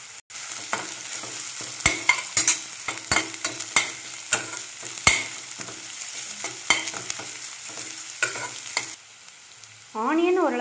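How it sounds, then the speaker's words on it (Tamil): Onions and curry leaves fry in a pan for a wedding-style cabbage poriyal, with a steady sizzle broken by repeated sharp scrapes and knocks of a spoon stirring; near the end the sizzle grows louder and denser. "இது எல்லாத்தையும் ஆட் பண்ணி நல்லா ஃப்ரை பண்ணிக்கோங்க."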